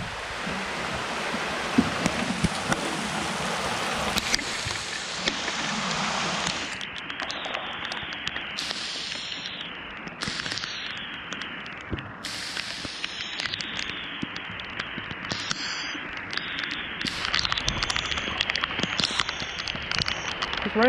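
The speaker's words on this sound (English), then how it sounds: "It's raining." Steady rain hisses and patters across a strip pit lake, a dense wash of drops with occasional sharper taps, continuing throughout without voices.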